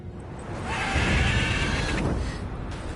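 A mare neighs in The Witcher 3 video game, one long, loud whinny over game ambience, then tapering away.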